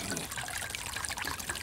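Water trickles and pours in a steady, splashy stream, continuous and fairly soft, with no voices over it, in a scene from an animated cartoon.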